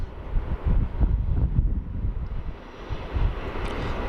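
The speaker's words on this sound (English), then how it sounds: "And a Maz Cargo taxiing out." A cargo aircraft taxiing at Sydney Airport: a low, rumbling jet engine drone from a moderate distance, mixed with gusty wind buffeting the microphone and no speech.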